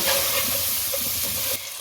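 Spices and a chicken cube are stirred in a cooking pot for chicken yakhni, with a brief, loud, close sizzle and scraping stir that drops away sharply at the end.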